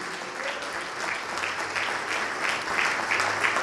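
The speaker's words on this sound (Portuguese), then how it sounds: "Vamos aplaudir mais, igreja." A church congregation claps steadily in sustained applause, dense and continuous, with a low hum and faint voices underneath.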